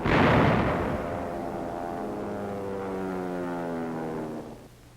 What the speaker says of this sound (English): 6-inch howitzers pound the north wall.